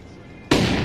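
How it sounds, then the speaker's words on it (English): A video game flashbang grenade goes off abruptly after a quiet, low hum, a sudden loud broadband blast that rings on to the end. "Flashbang."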